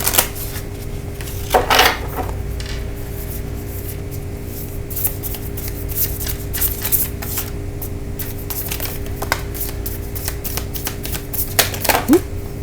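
A deck of oracle cards being shuffled by hand, giving soft papery riffles and a few sharper flicks and taps over low background hum. A faint voice can be heard at moments.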